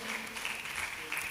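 Faint clapping from an audience at a cultural stage event honouring social service in Palakkad, heard at a distance with speech-like murmur blending in.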